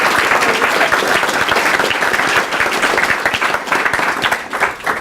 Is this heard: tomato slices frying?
no